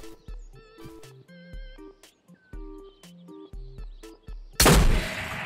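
One loud, sharp gunshot in the Ghost of Tabor video game comes close and sudden near the end, after a stretch of quieter tonal game sounds.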